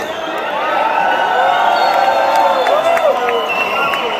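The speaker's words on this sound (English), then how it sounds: "Fantastische Crowd in Luxembourg" A large concert crowd at a live show in the Rockhal, Luxembourg, cheering and whooping loudly and continuously, with a dense roar of many voices throughout.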